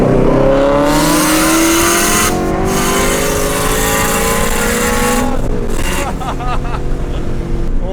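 Roughly 1000-horsepower Mustang pro drift car held at full throttle, a loud, close engine roar climbing steadily in pitch through the rev range, dipping briefly around one shift and then pulling hard again without pause.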